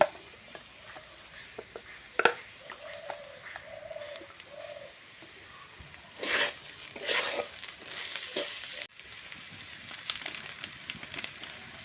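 Polao rice with spices and ghee fries and is stirred in a pot, with a bursts of sizzling and scraping in the later part, while a dove coos softly in the background.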